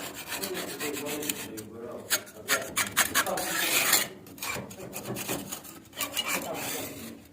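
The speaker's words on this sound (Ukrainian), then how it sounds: "Беремо шпатель наш, підчищаємо все лишнє" A putty knife scrapes excess material off a surface in an apartment renovation. The strokes are repeated and rasping, close and fairly loud, with short pauses between them.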